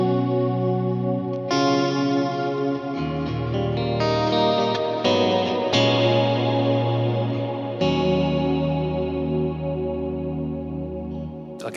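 A sustained, heavily processed instrument through a SKYLAR reverb with rich reverb and chorus-like shimmer, chords ringing out and blending into a wide, washy tail.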